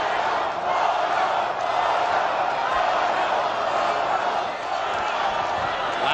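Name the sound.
crowd chanting "Goyo" at a boxing match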